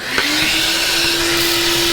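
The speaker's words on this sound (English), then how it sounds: "Now I'm just gonna vacuum out any metal shavings." A vacuum cleaner sucking up metal shavings from a snowblower roars steadily up close, its motor settling into a constant high whine.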